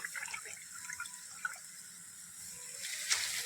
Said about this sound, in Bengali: চালের গুঁড়োটা ভালো করে জলের সাথে আমি গুলে নেব।